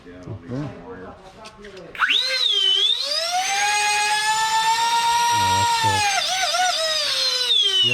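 Small electric motor of a Citation Longitude UMX RC jet spins up sharply and holds a steady, loud high-pitched whine, dipping briefly near the end, with people talking faintly before it starts.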